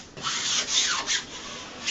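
A squeegee smooths Phototex wallcovering onto a wall in a few close, scraping rub strokes that swell and fade in quick succession.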